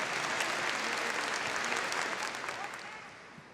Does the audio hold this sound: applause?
yes